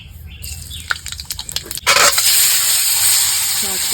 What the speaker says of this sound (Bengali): এখন একটু ভালো করে ভাজা ভাজা করে নেব।